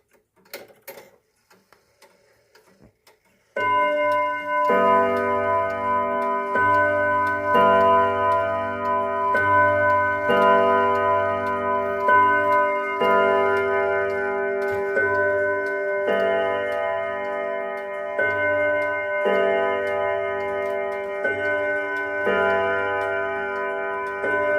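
A small 1940s Kienzle box clock strikes a deep bim-bam chime on three chime rods. Rich, ringing tones sound in a repeating two-note pattern and sustain close and loud after a few quiet opening ticks.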